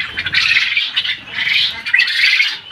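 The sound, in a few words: Japanese quail calling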